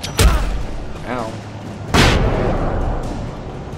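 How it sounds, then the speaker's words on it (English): Flash grenade blasts in the video game Alan Wake: two sharp, loud bangs about two seconds apart, each trailing off into a rumbling decay, with a voice speaking briefly between them. "Good thing I found flash grenades"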